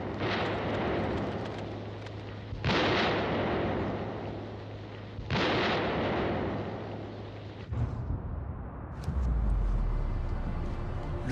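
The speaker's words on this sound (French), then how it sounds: "l'artillerie et les mortiers ouvrent le feu sur le Roc Noir" Heavy artillery and mortar fire on a 1945 Alpine mountain battlefield, a series of loud booming blasts, each rolling on for seconds before the next, followed by a sharper burst near the end.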